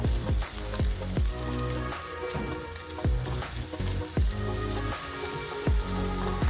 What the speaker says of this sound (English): I'm gonna have this saute until the onions start changing a little bit of color